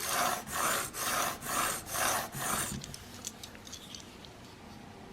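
Knife blade on a cheap knock-off Rage knife, badly ground, drawn across a sharpening stone in six steady rasping strokes, close and fairly loud, followed by quieter scattered scraping and ticking.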